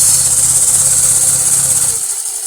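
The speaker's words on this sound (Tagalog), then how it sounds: "Tahimik yung makina." An engine idling steadily after 100k odometer distance during an oil change check, a continuous low rumble under a bright high-pitched hiss, with the low throb dropping away near the end.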